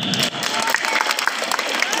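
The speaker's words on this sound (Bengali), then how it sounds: "আমরা করতালি দিয়ে স্বাগত জানাই" School annual results ceremony audience clapping in a steady, dense burst for about two seconds after a senior teacher is introduced, with a brief dip partway and a room-filling crowd sound.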